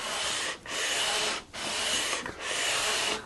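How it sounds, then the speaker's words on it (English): Steady back-and-forth rasping of sandpaper radius-sanding a wooden guitar fretboard in three long strokes, each separated by a brief pause, close and fairly loud. "that's another good practice to make sure you're sanding nice and even"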